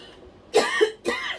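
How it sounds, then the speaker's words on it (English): Two harsh coughs close by, one after the other, with a short pause between them. "Excuse me, I'm going to cough."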